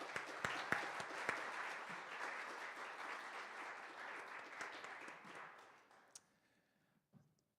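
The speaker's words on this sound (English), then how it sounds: "Another round of applause to the students here tonight." Sustained applause from an evening launch-party audience for students, a dense wash of many hands clapping for several seconds before thinning to a few last claps.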